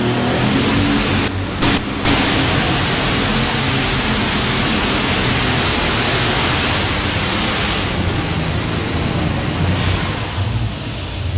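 An alcohol-burning 9500-class super stock tractor makes a pulling run at a 1997 NFMS pull in Louisville, Kentucky, giving a loud, unbroken engine roar with a high whine throughout and no voices.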